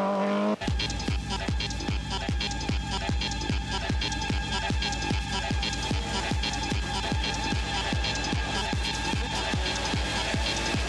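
Rally car on a 1999 Madeira Wine Rally stage, engine roaring loud and steady with a rapid pulsing throb, tyres scrubbing as it drives hard and close throughout.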